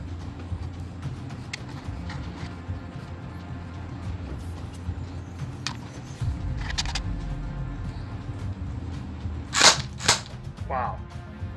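A Sig Sauer P226-style toy gun fires gel bullets in a few sharp snapping shots, two standing out loudly near the end, over a low background rumble with no speech.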